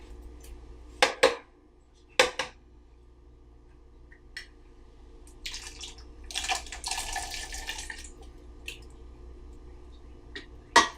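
Two large cans of pinto beans pour onto sautéed onion and garlic in a pot, with wet sloshing plops, a few sharp can and utensil clanks, and a softer stretch of thick beans sliding out, close and quiet.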